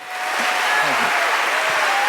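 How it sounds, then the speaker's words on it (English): A short, steady wash of applause rises quickly and holds at an even, fairly loud level for a couple of seconds, with no voices over it. "Put some applause with that"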